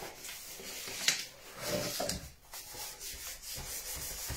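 Wood being sanded by hand in a workshop, with soft, uneven rubbing strokes close by and small pauses between passes.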